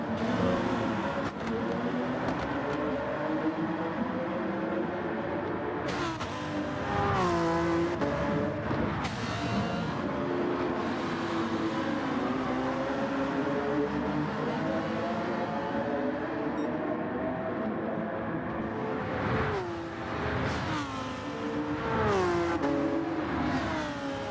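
Race cars in Gran Turismo 7 during a Manufacturers Cup race roar continuously at high volume, engines revving up and down through gear changes as cars chase each other closely, with occasional sharper bursts of acceleration.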